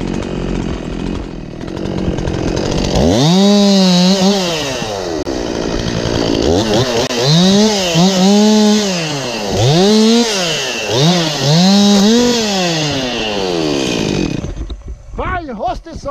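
A Stihl 261C chainsaw cutting beetle-damaged timber revs loudly in repeated rising and falling bursts, close by, then drops off near the end.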